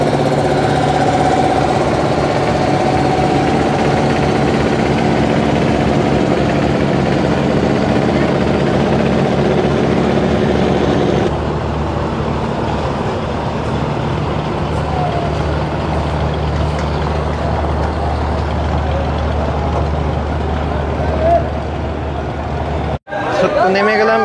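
A passenger launch's ship engine drones loudly and steadily as the vessel departs for Chandpur, a constant low rumble throughout, with a shift in tone partway and a brief dropout near the end.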